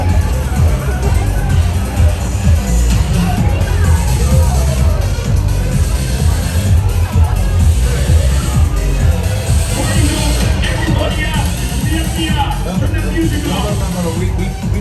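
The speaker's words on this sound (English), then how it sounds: "I hear people in this next room" A crowd of partygoers chatters in the next room, a steady, dense babble of many indistinct voices holding at a constant level the whole time.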